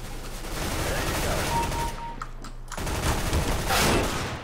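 Stock MP7 submachine gun firing in a video game, a dense rapid burst of automatic fire with brief pauses, loud and close, over continuous game noise.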